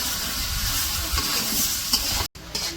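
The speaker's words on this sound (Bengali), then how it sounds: "এইদিকে সবজি তো কষাইতে দিছিল, সবজি কষানো হয়ে গেছে" Vegetables sauté with spices, onion and green chilli in a village kitchen pan, a dense close sizzle with stirring scrapes, a sharp cut just before the end, then the frying resumes.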